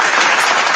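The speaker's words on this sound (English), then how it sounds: "Round of applause." A brief burst of audience applause, a dense wash of clapping that fills the whole moment at steady loudness with no voices on top.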